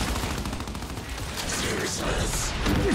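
Rapid gunfire from the video game Gears 5 rattles in continuous bursts of shots, dense and fairly loud throughout.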